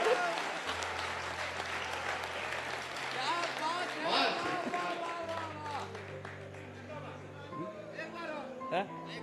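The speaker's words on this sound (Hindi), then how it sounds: "तालियां कम हैं आपकी।" An audience at a Hindi comedy poetry gathering claps in a sustained, fairly loud wave of applause, with voices speaking over it throughout.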